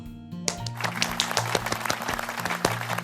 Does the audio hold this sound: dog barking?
no